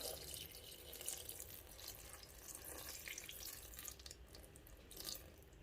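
Salted water is poured into a pot of stuffed brined grape leaves, a soft continuous splashing trickle that is faint and close, with no talking.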